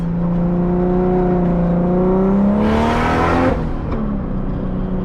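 A turbocharged BMW E36 M3 running a 328 engine accelerates hard while racing, its engine drone climbing steadily in pitch, then a loud rushing burst of turbo and wind noise before the tone eases off, heard close from inside the car.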